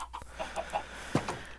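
Chickens in the video game Minecraft give soft, short clucks, several brief evenly spaced calls over a faint steady background hum, with no voices.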